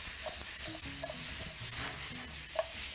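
Ingredients stirred through oil in a pan give a soft, steady sizzle with light scraping strokes that continue quietly and evenly throughout, with no voices.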